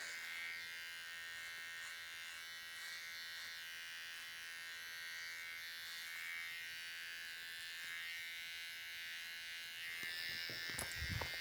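An electric hair trimmer with no guard buzzes steadily while cutting hair, a close, continuous whine that stays even until a few handling bumps near the end.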